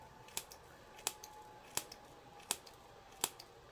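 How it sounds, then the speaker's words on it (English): Scissors point cut hair in five sharp, crisp snips spaced evenly about every three-quarters of a second, close and quiet against a faint background hum, with no talk. "I'm going to go ahead and just point cut it"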